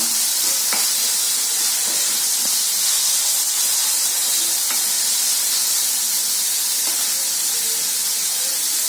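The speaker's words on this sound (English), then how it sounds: "Fry about 30 seconds until you get a nice aroma." Ginger garlic paste frying in a pan, a steady loud sizzle and hiss throughout with a few faint stirring taps.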